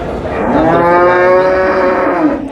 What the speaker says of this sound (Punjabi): ਬਹੁਤ ਵਧੀਆ ਗਾਂ ਜੀ